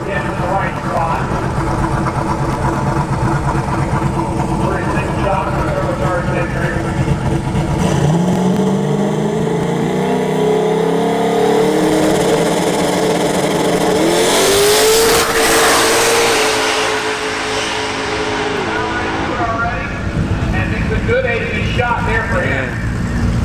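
Drag racing cars at Bradenton Motorsports Park's Battle in the Bay event accelerate hard down the strip, a loud sustained engine roar with rising revving sweeps and a sharp high burst midway, while a commentator talks over it.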